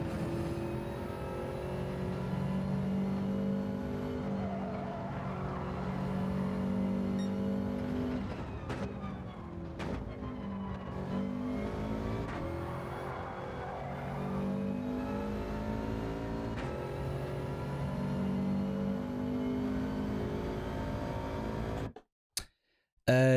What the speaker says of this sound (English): I'm just doing it out of habit when I hear the engine